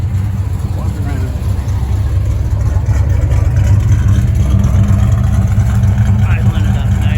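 A 1968 Plymouth Valiant engine with an AVS carburetor idles at about 900 RPM on a hot day, a steady low rumble, constant and close, under a faint background hiss.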